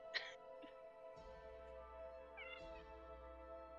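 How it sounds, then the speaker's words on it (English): A domestic cat meows faintly in the background, a couple of brief tonal calls over a steady low hum and room noise, with no speech. "Whose cat was that?"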